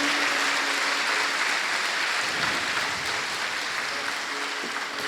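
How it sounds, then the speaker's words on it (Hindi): Audience applause at a spiritual satsang gathering of the Vihangam Yoga community, a steady, dense wash of clapping that holds evenly for about five seconds with no break. "एक बार सब एक दूसरे के लिए तालियों की गड़गड़ाहट कर रहे हैं।"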